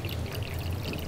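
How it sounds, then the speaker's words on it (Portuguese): Water is poured steadily into a container for sprouting an avocado seed, a close, continuous splashing pour with no speech. "Vamos colocar água"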